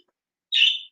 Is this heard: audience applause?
no